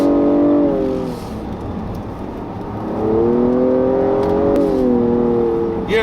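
A 2016 Nissan Maxima full-size sedan's engine rises in pitch as it accelerates, eases off briefly, then pulls again with a steady climbing hum close by, with no talking over it.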